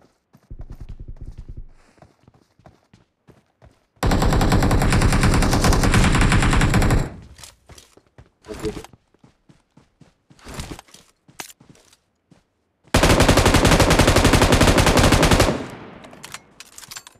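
Bursts of M249 light machine gun fire in PUBG, two long sustained loud volleys separated by a shorter burst and scattered single shots, with brief quieter gaps between.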